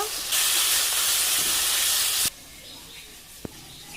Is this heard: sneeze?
no